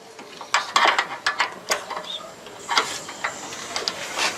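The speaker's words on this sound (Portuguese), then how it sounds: "Tá fazendo aqui o aperto da parte de cima da telha" A worker tightens a solar panel mount fastener at the top of a roof tile during a 5.2 kWp rooftop installation, making a series of irregular close clicks, taps and metallic rattles.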